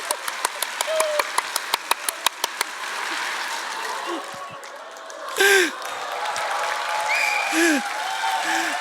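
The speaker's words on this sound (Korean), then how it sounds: "양손을 들고 힘차게 박수를 치는 건데요" A church congregation claps hands in quick, even unison beats for a couple of seconds, then breaks into scattered clapping and a murmuring crowd with voices and laughter filling the room.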